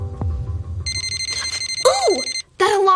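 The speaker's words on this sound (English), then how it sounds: "That alarm means my muffins are done." A ringing, bell-like electronic alarm goes off as a signal that baking muffins are done, with steady repeated tones, a brief pause, then ringing again, loud and close, over light background sounds.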